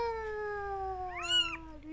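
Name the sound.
kitten meowing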